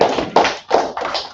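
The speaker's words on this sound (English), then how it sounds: "they clap it up for me, man" A few people clapping at an Atlanta Sabbath service, bursts of close, sharp hand claps coming in three or four uneven waves over a moment, fairly loud with no talk.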